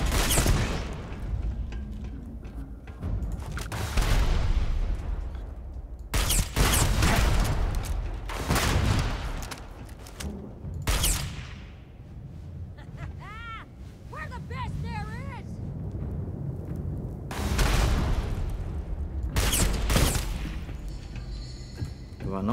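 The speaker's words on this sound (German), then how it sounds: "Der schmeißt schon wieder Granaten." Grenade explosions and bursts of gunfire go off in a space-themed shooter game, as loud sharp blasts spread across a noisy battle bed. Someone talks over much of the action.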